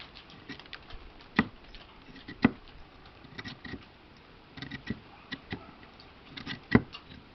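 Rain patters outdoors where everything is soaking wet, with soft, scattered drops and a few sharper taps striking nearby surfaces over a low, steady background.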